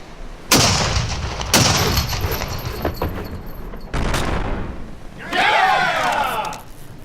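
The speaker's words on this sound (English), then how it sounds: "Gun deck, prepare to fire chain shot cannon only." Chain shot cannon fire from a ship's gun deck: several heavy booming blasts in succession, followed by a loud crowd cheer near the end.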